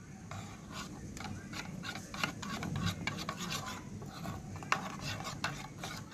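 Turmeric and cumin powder being stirred into a spice paste, giving close scraping and rubbing strokes in an uneven rhythm, with a few sharper clicks of a utensil against the bowl.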